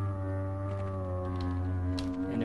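Low, droning tentacle monster groan from the Half-Life video game, a steady harmonic moan with layered tones that holds for a couple of seconds, with a brief brighter shuffle near the end.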